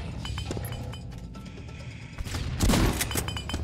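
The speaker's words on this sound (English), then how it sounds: "I think it's the explosions that are causing lag." Explosions and gunfire in the shooter Doombringer, a dense continuous barrage with a loud burst of blasts near the end, cluttered and busy throughout.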